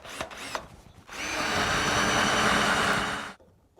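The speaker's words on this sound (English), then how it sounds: "Get the centre point of your Forstner bit right on the mark." A drill drives a Forstner bit into wood while making a tealight holder, giving one loud, steady grinding whir of about two seconds after a few short clicks, then stopping abruptly.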